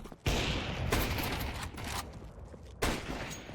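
Gunfire from the Counter-Strike video game: loud sharp shots open the stretch, followed by sustained rattling fire and another sharp shot near the end.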